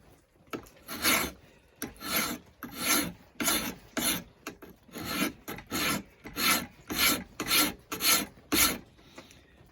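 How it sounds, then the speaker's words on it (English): A bastard file is draw-filed across steel for a knife blade, giving a series of about a dozen rhythmic rasping strokes, each a coarse swelling scrape, close and clear with short pauses between. "This is a bastard file. When you draw filing, you hold that 90 degrees"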